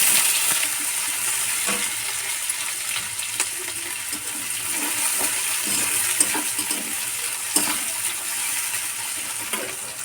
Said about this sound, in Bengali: লাল লাল করে ভেজে নেবো একটু।